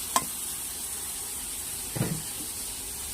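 Taro stolons frying in a pan give a faint, steady sizzle, with a sharp clink near the start and a short scrape of stirring about two seconds in.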